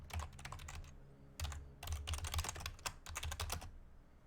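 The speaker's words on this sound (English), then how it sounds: "Forgive my loud keyboard." Loud computer keyboard typing, with rapid close clacking keystrokes arriving in several bursts separated by brief pauses, no voice present.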